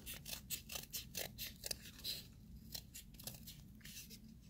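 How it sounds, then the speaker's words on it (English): Rhythmic crunching snips of cardboard scissors cutting through cardboard, repeated steadily and close by, with a brief pause midway. "Then I'll come back with my cardboard scissors to cut it out."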